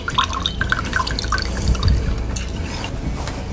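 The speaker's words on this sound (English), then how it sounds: "Fresh squeezed lemon juice." Fresh squeezed lemon juice pours into a mug among other cocktail ingredients, giving a light, uneven trickle and dripping patter up close, with faint background clatter and no speech.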